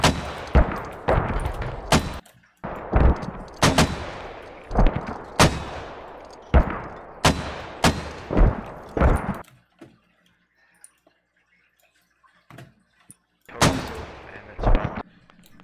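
Mortar rounds firing in the video game SQUAD, a rapid string of loud booming launches in clustered volleys, then a quiet pause before another close burst of shots.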